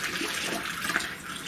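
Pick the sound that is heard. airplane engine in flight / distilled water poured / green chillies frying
distilled water poured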